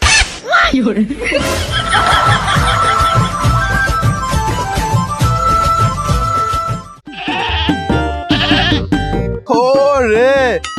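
Loud bleats from local goats for sale, several wavering cries, ring out close by at a livestock market over music and lively chatter, with some laughter mixed in.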